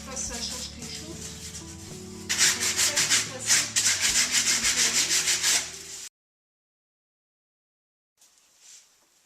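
Coarse 80-grit sandpaper rubs back and forth over cardboard, a rhythmic scratchy stroking that grows louder midway, then stops abruptly into silence before a faint brief scrape returns.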